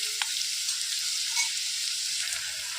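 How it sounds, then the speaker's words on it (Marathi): Onion softening in hot oil for a Maharashtrian matki usal, a steady close sizzle running throughout with a couple of faint clicks, no voices. "कांदा असा सॉफ्ट करून घ्यायचा आहे आपल्याला ब्राऊन कलर किंवा काळपट कलरमध्ये करून घ्यायचं नाही"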